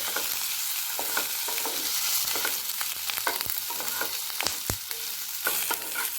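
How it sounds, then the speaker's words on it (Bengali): Chilies, ginger and tomato pieces fry in a pan with a steady soft sizzle, broken by frequent scraping clicks and knocks of a spoon stirring, with no talking. "এখন এগুলোকে একটু নেড়ে ছেড়ে হালকা ভেজে নেব।"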